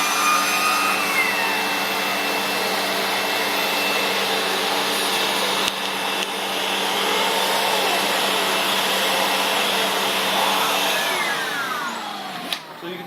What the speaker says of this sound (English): this hand nozzle spins based off the suction coming from the vacuum cleaner